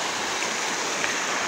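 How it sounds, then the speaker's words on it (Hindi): Strong, swollen river current roaring at a confluence after heavy rain, a steady broadband rush of water, close and continuous with no talk. "कल की प्रबल बारिश जो हुई थी, जलधारा प्रबल है।"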